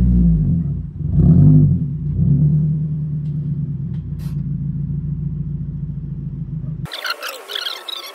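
A 2022 Subaru WRX with Boso axlebacks and a muffler delete idles with a deep, loud exhaust rumble, swelling through a couple of throttle blips early on before the sound cuts off abruptly near the end.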